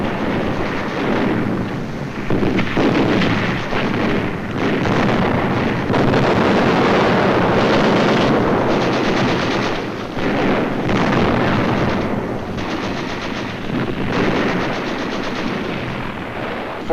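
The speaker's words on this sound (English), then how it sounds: "this assault engineer knows exactly where to put his high explosive charge in order to destroy the blockhouse." Wartime assault on a fortress blockhouse at Fort Eben-Emael in a 1943 film: a dense, loud, continuous roar of gunfire and blasts with wind-like rumble runs unbroken throughout, and no one talks.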